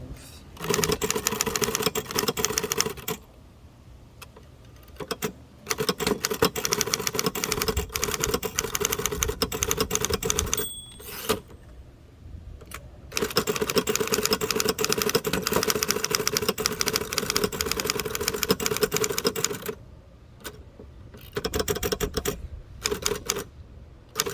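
A 1933 Underwood four-bank portable typewriter is typed on outdoors in a backyard: steady, rapid key clacks run for long stretches, broken by a few short pauses and a carriage bell ding.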